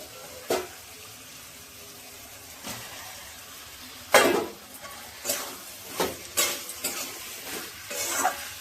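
Spice paste with potatoes and cauliflower being sautéed in a pan for a Bengali egg curry, with scattered stirring scrapes and clinks over a low steady sizzle, fairly faint.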